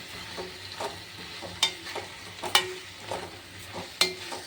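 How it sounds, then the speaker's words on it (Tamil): Chilli powder masala sautés in a pan for a radish curry, a soft sizzle under irregular scrapes and sharp metallic clinks of a spoon stirring, close and moderately quiet. "இதெல்லாம் நம்ம ஒன்று சேர்த்து நம்ம நல்லா கிளறி விட்டுக்கலாம்"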